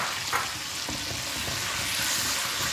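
Boiled, ground onion paste fries in a pan for matar paneer, giving a dense continuous sizzle and bubbling hiss, close and steady with faint stirring scrapes and no talking.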